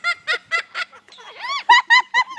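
A parrot at Parrot Mountain lets out a series of short, harsh, close-up growling calls, several rapid bursts with a brief drawn-out sound in the middle.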